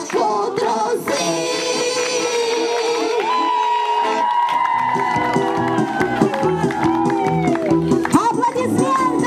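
Audience applause and cheering after a song at a campfire gathering, a loud, dense crowd sound running throughout with music-like tones and voices mixed in.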